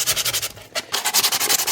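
Rapid back-and-forth scraping of sandpaper on a plastic model part for a Starship Enterprise build, close and rhythmic, with a brief pause midway before the strokes resume.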